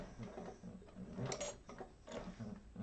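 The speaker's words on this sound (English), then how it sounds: "this is going to sew that flap in place" A sewing machine stitches a wallet flap in quiet, rapid mechanical runs with small clicks and pauses, faint and close.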